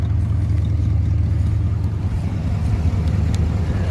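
A 1979 Chevy C20 truck, parked since 2005 and running on fuel treated with Berryman's additive, idles steadily with a loud, low, continuous engine rumble close by and no talking.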